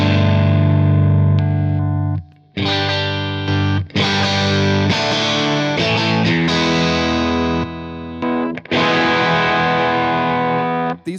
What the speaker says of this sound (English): Let's hear it with just the boost.